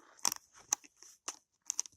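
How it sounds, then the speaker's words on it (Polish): Scissors cut into a family parcel in short separate bursts of crisp snipping and crinkling, up close and fairly quiet, about five cuts spread over two seconds with silence between them. "Ok, mam nożyczki i chyba tutaj zacznę"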